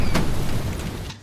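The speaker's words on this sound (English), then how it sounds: "here is the explosion" A short cartoon explosion effect from an animation: a single dull boom with a crackly burst that swells briefly and fades out within about a second.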